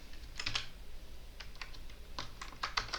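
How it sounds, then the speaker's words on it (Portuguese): Keys tap on a computer keyboard while shortcuts are pressed in Excel, producing a few close, clicky key presses in small irregular clusters at a quiet level with no talking. "Quando você pressiona Ctrl L, ele vai apresentar para você essa janela"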